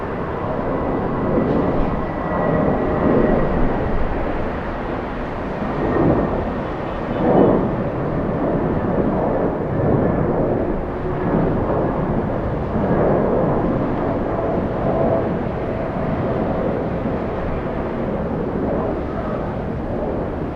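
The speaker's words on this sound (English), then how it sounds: "Let's go for the small A319 taking off on runway 8 left." A United Airlines Airbus A319 takes off from Atlanta's Hartsfield-Jackson airport, bound for Houston. It makes a sustained rumbling jet roar with repeated surging swells, heard from a distance with no talk over it.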